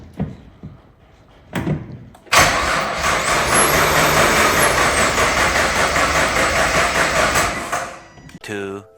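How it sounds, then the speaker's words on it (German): A door thuds and voices talk before a Nissan GT-R R35 engine cranks and catches, running loud and steady close by for several seconds. "die Pumpe funktioniert beziehungsweise de Motor läuft"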